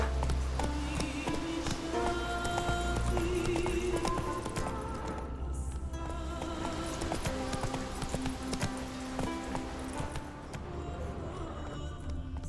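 Roach the horse galloping in The Witcher 3, a quick steady clip-clop of hooves under a busy game music score, with a brief spoken line.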